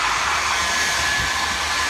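A Philips hair dryer running on its low setting gives a steady, close airy whoosh with a constant motor whine, heard alone at an even loudness throughout.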